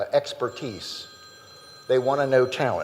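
A mobile phone rings during a supply chain conference session, its electronic tone sounding briefly in the room under and between a man's ongoing speech.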